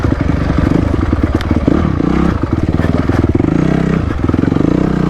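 A Honda CRF250X four-stroke woods bike rides tight single track, its engine popping and revving in choppy bursts with clattering over roots and rocks, loud and close throughout.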